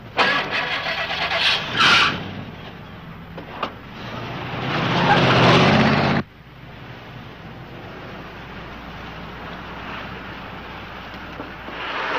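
Car engine starting and running in a police chase scene on a highway, a loud burst of revving up front with a roaring surge midway that cuts off sharply, followed by a steady lower hum.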